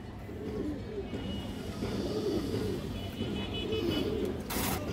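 Black-beaked Kaldom pigeons, a local breed, cooing in soft repeated low calls over steady background noise, with a brief brighter burst at the end.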